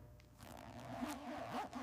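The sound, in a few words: zipper operated on snake leather jacket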